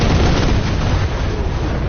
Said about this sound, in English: That was a nice bombardment that did nothing.